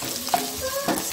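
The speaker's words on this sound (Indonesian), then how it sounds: "Selanjutnya sosis saya masukkan, ini ditumis" A brief burst of sausage stir-frying in a pan: soft sizzling with a couple of quick utensil clinks and scrapes.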